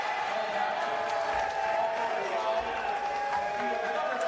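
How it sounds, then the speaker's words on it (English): A basketball crowd at a high school tournament game roars in a steady, dense wash of cheering and shouting after an offensive foul, with a commentator talking over the sustained noise. "An offensive foul has at least half the crowd on their feet."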